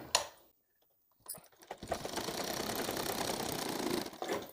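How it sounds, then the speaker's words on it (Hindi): A sewing machine stitches the side seam of a cloth potli bag, starting after a short click and silent pause, then running in a steady, close, whirring hum with no talk. "अब हमें इस किनारे में दोनों तरफ यहाँ पर सिलाई लगाना है।"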